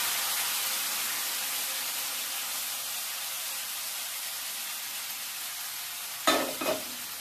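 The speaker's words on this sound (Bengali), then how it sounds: "এবারে ভালো মতো ভেজে নিব আমি" Boiled vegetables frying with garlic and dried chili in a pan, a loud, even hiss of sizzling oil throughout, ending with two quick scraping stirs.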